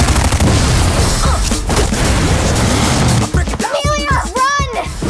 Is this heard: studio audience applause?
no